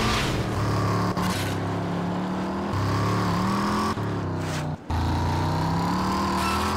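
A car engine drones steadily while driving in the game RAGE, loud and close, its pitch climbing and dropping through gear shifts with a couple of brief dips, a short murmur from a voice over it.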